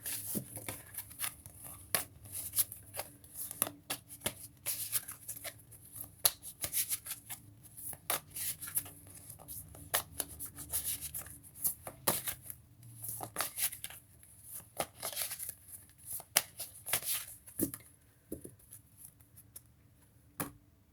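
Tarot cards are shuffled close by in a long run of quick papery riffles and soft slaps, with brief pauses between bursts and no voices.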